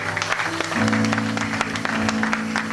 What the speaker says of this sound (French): Est-ce qu'on peut acclamer le Dieu?